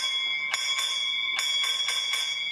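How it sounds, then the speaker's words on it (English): Railway signal box block bell struck in a sequence of ringing strokes, with about six clear metallic dings spaced unevenly over a couple of seconds, each leaving a sustained bright tone, fairly close and alone. "So he responds with one bell."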